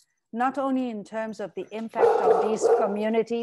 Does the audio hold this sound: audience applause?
no